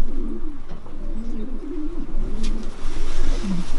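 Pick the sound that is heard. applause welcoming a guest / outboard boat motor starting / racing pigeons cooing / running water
racing pigeons cooing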